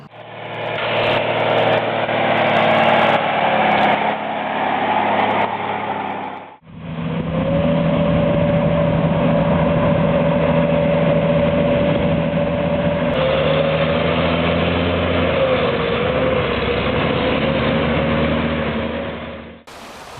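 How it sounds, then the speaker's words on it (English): An extremely powerful MAN 8x8 glacier-crossing truck in Iceland runs with a steady, loud engine drone, briefly cutting out partway before resuming a sustained rumble to the end. "This is an extremely powerful MAN 8x8 truck that crosses glaciers in Iceland."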